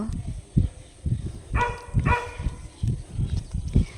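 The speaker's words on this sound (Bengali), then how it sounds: "পাশের বাড়ির কুকুরটা ডাকছে" A dog barks repeatedly in short bursts against a cluttered background, with some human voice mixed in.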